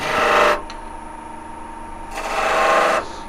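A lathe turns down the body of a Christmas tree bulb, a steady whirring hum with two louder bursts of cutting hiss as the tool bites into the workpiece, close and alone.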